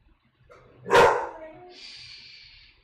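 A dog gives one close, sharp bark followed by a short whine, indoors in a kitchen, with quiet background noise.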